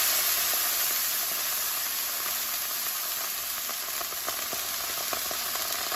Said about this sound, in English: in the wok, I'm going to deglass the wok with the red wine